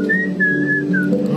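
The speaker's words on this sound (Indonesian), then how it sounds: "Besiul-siul dulu ya kan." A person whistles a short wavering tune in a few brief phrases, loud and close, over steady background noise.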